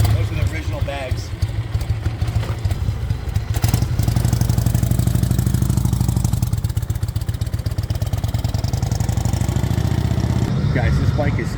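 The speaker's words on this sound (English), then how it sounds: "Looks, sounds, and runs like a brand new motorcycle" A 1954 Harley-Davidson FL motorcycle engine idling close by with a steady, lumpy rumble and quick pulsing beats, while a voice talks over it.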